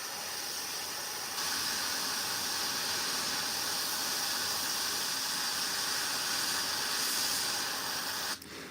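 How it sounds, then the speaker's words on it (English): A close, continuous airbrush hiss sprays paint on a Warhammer miniature. It grows slightly stronger after the first second and holds steady for about seven seconds before cutting off. "The airbrush is quite a tool, that's for sure."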